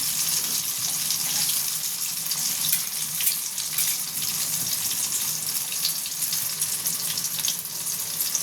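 Dal dhoka fries in hot oil in a wok until reddened, a continuous hissing sizzle with small pops holding close and even for several seconds, no voices.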